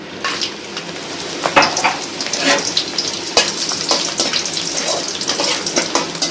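Dried red chillies fry in a hot pan with a steady, close sizzle and crackle, broken by brief louder spits and stirring scrapes throughout.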